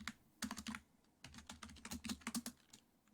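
Close, quiet keystrokes on a computer keyboard as JavaScript code is entered, arriving in two quick bursts of clicky taps separated by a short pause, with no voices.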